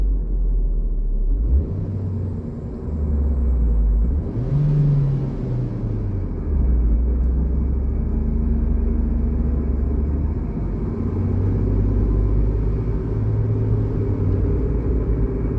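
A Ford Transit van with a fault that stops it shifting into third and fourth gear idles and then pulls away. The engine rumble is steady and close, and the pitch rises and falls as it accelerates and shifts.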